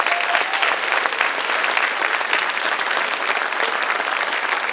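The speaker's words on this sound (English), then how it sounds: "just another round of applause for all of our recipients tonight" Dense, steady audience applause closing a high school underclassmen awards night, a continuous loud wash of many hands clapping throughout with no pauses.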